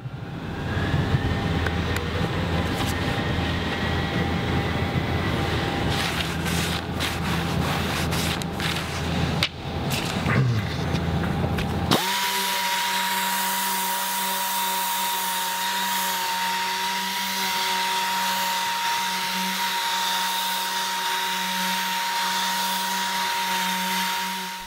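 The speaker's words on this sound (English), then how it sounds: "It's important as you sand here, I'm keeping my sander flat, as you can see, and I'm trying to keep a consistent pattern" A power sander with 400-grit paper working aircraft wing skin for a Seversky P-35A: a loud, continuous whirring drone, rough at first and then settling into a steady higher-pitched hum, with no talking.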